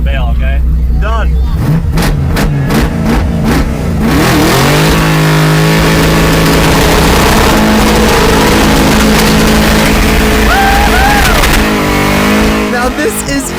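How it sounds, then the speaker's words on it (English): A 1500-horsepower twin-turbo exoskeleton drag car roars through a burnout contest, starting with sharp staccato revs, then a sustained, loud, rising engine howl heard up close, with voices talking over it. "And this burnout contest goes all night long."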